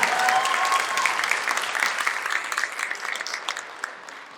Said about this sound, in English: let's give one more round of applause for our demo team.